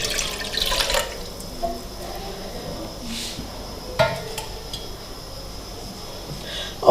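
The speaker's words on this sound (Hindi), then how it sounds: "ये बर्तन लिया है, हम डालेंगे 2 कप पानी इसके अंदर।" Water poured from a vessel into a cooking pot in a home kitchen, two cups going in to start sugar syrup for gulab jamun; a short splashing pour at the start, then quiet kitchen clatter with a faint drip or tap.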